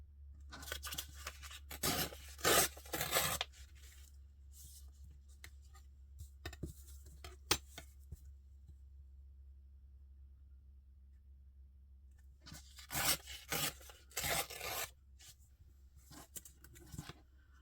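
Paper ripped and torn by hand while making ephemera for journal pages and pockets, several sharp close tearing bursts near the start and again near the end, with quieter rustling and handling between and no talk.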